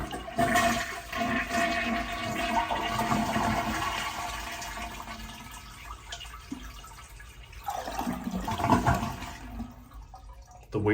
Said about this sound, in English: Flush your toilet.